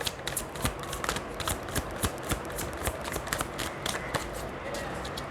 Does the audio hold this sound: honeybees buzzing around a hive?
no